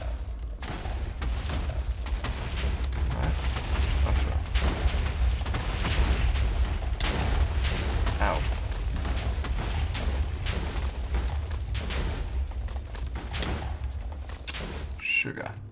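Chain of Minecraft explosions going off in quick succession, dense overlapping booms and crackling blasts rolling continuously for about fifteen seconds, loud and close.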